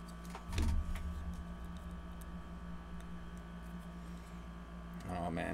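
A 3D printer printing Nezuko figure parts runs steadily with a low motor hum and faint ticking, near and moderately loud, while a person talks briefly over it at the start and end.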